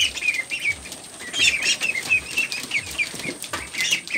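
Peking ducklings flap their wings and splash in a small pool, with brisk, repeated bursts of flapping and high, thin chirping peeps throughout, close by and fairly loud, with no talking.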